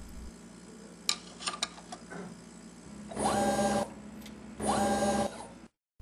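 An OK International APR-5000 rework system places a component on a circuit board, with two loud motorized whirring bursts of about a second each after some light clicks, then an abrupt cutoff.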